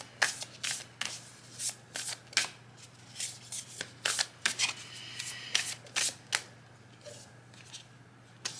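Tarot cards are shuffled and drawn by hand: a steady run of crisp, close riffling snaps and flicks in irregular bursts, with no voice.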